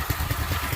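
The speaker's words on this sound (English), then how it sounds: "This is on idle. That's the way to go, a gasoline pump." A gasoline water pump engine idles at a desert gold recovery site, putting out a steady low chugging putter that is loud and close, with no voices.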